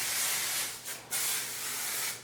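Verb Ghost Dry Oil misted from a small spray bottle, a soft close hiss lasting about a second, a brief pause, then a second longer spray, quiet and alone.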